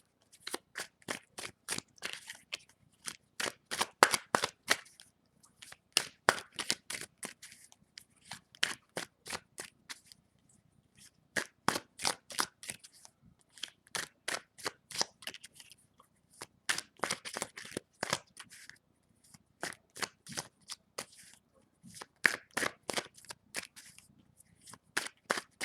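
Tarot cards are shuffled in repeated bursts of quick crisp riffling flicks, each lasting a few seconds and separated by short pauses. The sound is close and fairly quiet, with no speech.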